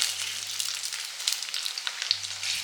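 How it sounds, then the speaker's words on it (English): Steady crackling sizzle of fish cakes shallow frying in hot oil over medium heat, a dense hissing spatter close up with a low hum underneath. "I'm shallow frying over medium heat, just aiming to brown the outside and build up that crispy crust."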